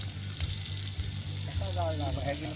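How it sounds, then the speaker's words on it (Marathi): Chicken pieces sizzling on a very hot clay roof tile set over a wood fire outdoors, a steady close crackling fry with a low hum of fire and bustle beneath. "चांगली भट्टी पेटलेली आहे आणि कवलं खूप तापलं आहे चांगलीपैकी आणि आता त्यावर चिकन ठेवलं आहे"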